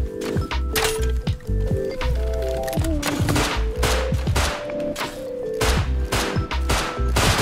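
Rapid bursts of video game gunfire in a survival shooter, loud repeated shots and fusillades with thuds throughout, nearly continuous and without talk.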